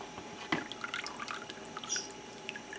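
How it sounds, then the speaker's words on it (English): Lye solution poured into a crock pot for hot-process herbal soap: a faint, quiet run of drips and small liquid splashes with one brief splash near the start, no talking. "Now I'm going to put my lye solution in here, like so. Just pour it in."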